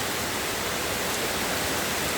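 Floodwater rushes in front of a house during heavy rain, a dense, loud and unbroken roar of flowing water with no pauses.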